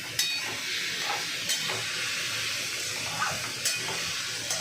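Food fries over high heat in a pan, giving a steady sizzle broken by several light stirring scrapes and taps at irregular intervals, with no voices.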